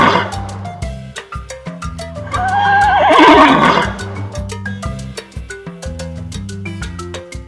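A horse lets out a loud, shrill whinny that rises and shudders for about a second, set over a bouncy looping musical backing that continues before and after.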